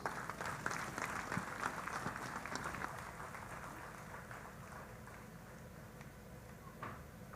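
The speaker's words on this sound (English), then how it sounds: "please join me with a big round of applause" Audience applause at a general conference session, dense clapping that starts strong and gradually thins and softens over several seconds.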